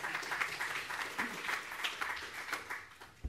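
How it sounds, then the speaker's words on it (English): Audience applause in a lecture hall following an introduction, a steady wash of many hands clapping at moderate distance, fairly soft and even throughout. "We can clap, Josephine."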